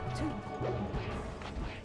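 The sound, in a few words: down smash attack hit in Super Smash Bros. Melee video game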